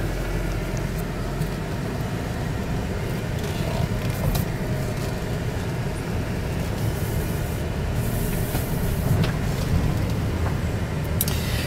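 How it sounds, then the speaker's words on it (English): A 2010 Chrysler Town and Country minivan on the move, heard from inside as a steady, broadband road and engine rumble with tire hiss that holds even for the whole stretch, with no talk. "we're gonna take this for a ride and see how she drives."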